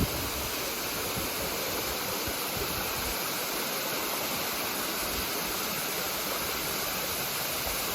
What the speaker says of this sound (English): these two mountain rivers meet and flow together in harmony